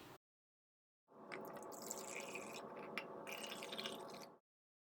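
Water is poured into citric acid in a container at home while making mozzarella, a close, quiet, steady trickling pour lasting a few seconds before stopping.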